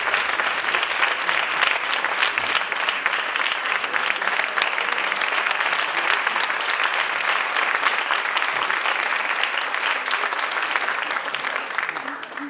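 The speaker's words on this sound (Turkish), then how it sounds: "alkışlarımız şimdi konserimizin yöneticisi olan şefimiz Sayın Hüdayi Erdem Bey için gelsin" An audience claps steadily and densely as a choir conductor walks onto the stage before a Turkish classical music concert, the applause sustained and even at close range for the whole stretch.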